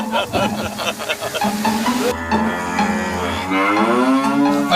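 A buffalo gives a loud, drawn-out moo that swells and holds near the close. Voices talk over a rural background before and during the call.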